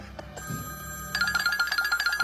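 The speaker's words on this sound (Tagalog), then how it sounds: "Ano yan? Telepono." A telephone rings on a Filipino TV comedy set, a bright repeating electronic trill that starts after a moment of quieter background and keeps pulsing steadily.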